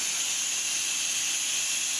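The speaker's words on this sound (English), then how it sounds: "We're going to do the pressure release" Steam hisses steadily from a pressure cooker during pressure release after cooking French onion soup, a constant loud high-pitched rush with no pauses.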